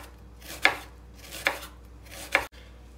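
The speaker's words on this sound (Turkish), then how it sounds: "Soğanları da dilimledim." An onion, halved, is cut into thin slices with a knife on a board: three crisp, evenly spaced chops close by, each with a short crunchy attack, and no voices between them.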